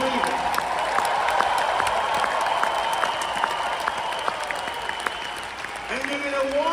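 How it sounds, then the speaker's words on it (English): Audience clapping along at a motivational sermon, a steady stream of hand claps filling a large room, with a voice speaking over the crowd throughout. "Somebody clap your hands like you believe it."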